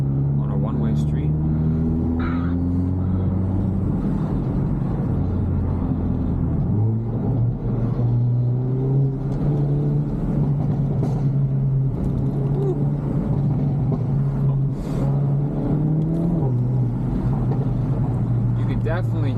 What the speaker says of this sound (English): You can definitely hear that turbo noise a lot more now.